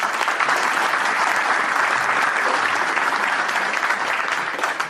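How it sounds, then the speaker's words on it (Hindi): A seminar audience applauds loudly, a dense, steady wash of clapping from many hands that keeps going without a break for the whole stretch. "इसके लिए अपने आप के लिए जोरदार ताली बजा दीजिए"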